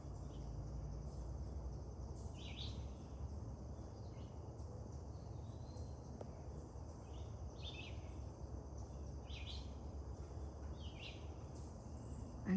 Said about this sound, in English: I hope you're enjoying the birds singing and chirping